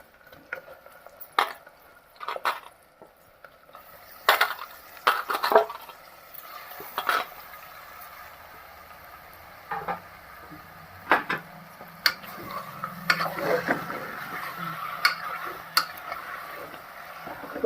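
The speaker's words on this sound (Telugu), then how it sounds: "సో మటన్ వేసిన తర్వాత ఆయిల్లో మొత్తం మటన్ అంతా ఆయిల్ కలిసిపోయే వరకు నీట్గా కలుపుకోవాలి" Marinated mutton pieces are stirred through hot oil in a pan with onions and curry leaves for a mutton curry, with irregular scraping and clinking of a spoon against the pan over a soft sizzle and no talking.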